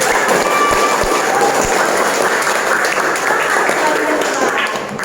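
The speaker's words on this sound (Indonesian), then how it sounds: "Silakan beli tepuk tangan." A classroom of students applauding during a religious lesson at school, dense continuous clapping close by, with a few sharper individual claps and faint voices underneath.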